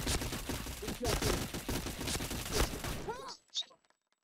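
Dense, rapid gunfire from the online shooter Point Blank crackles in loud overlapping bursts for about three seconds, then cuts off abruptly, leaving a brief faint trailing sound and silence.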